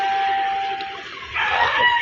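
A rooster at a Filipino breeding farm crows in the morning, a long strained call with a second rising burst near the end, heard fairly close with no talking.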